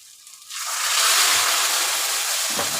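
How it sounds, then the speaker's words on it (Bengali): Ground cumin and coriander frying in a pan as hot water goes in, a sudden loud hiss that swells and then settles into a steady sizzle. "আর দেব একটু গরম জল দিয়ে এটাকে কষাবো ভালো করে"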